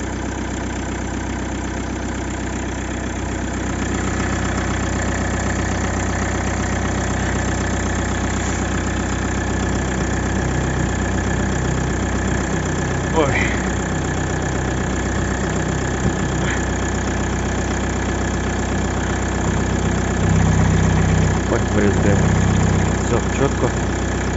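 A Toyota Avensis 2.0 D-4D diesel engine idles steadily after a cold start with a low, even rumble and light ticking throughout, close by, with brief faint sounds near the end.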